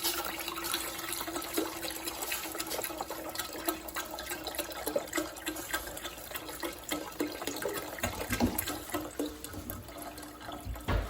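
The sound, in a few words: water filling a large soup pot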